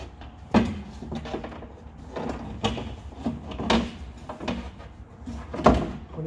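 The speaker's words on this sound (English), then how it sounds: "Now put the glass back in from the top of the door." A glass window pane is lowered back into the top of a Jaguar XF Mk1 X250 front door, with a few sharp knocks and clunks against the panel and quieter rubbing and handling noises between them.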